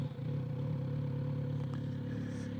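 A warmed-up Honda CB1000F motorcycle engine turns over and settles into a steady, close, low idle around 1,000 rpm, running alone without talk.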